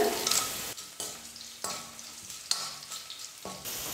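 Cut dried red chillies frying with lentils in hot oil: a soft, steady sizzle broken by repeated scraping stirs of the spoon at a fairly even rhythm, close by and with no voices.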